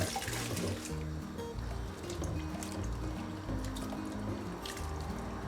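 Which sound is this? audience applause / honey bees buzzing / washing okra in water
washing okra in water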